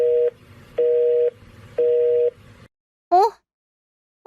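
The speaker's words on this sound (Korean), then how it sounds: "전화. 당장 전화해봐야겠어." Telephone busy signal: three evenly spaced long tones with short gaps, loud and alone, then a brief rising chirp near the end.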